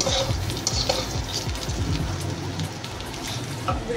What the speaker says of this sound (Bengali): চাল আর ডালটা মোটামুটি নাড়া হয়ে গেছে